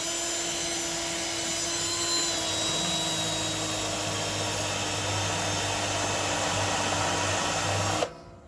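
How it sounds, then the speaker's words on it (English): A power drill with a step bit grinds into the metal of a new brewing kettle, giving a steady, loud whirring drone that runs unbroken for about eight seconds before cutting off abruptly. "So what I'm going to do is I'm going to use a step bit"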